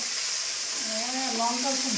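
Fried chicken pieces sizzle in a pan of onions and chillies for a spicy curry, a steady close frying hiss underneath a voice speaking briefly over it.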